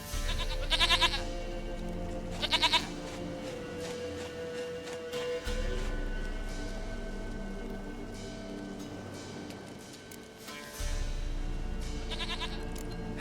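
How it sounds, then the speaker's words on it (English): A goat in The Witcher 3 bleats in short, wavering bursts that recur a few times over a steady rain-like ambient backdrop. "Goat of mine, dearest, sweetest goat."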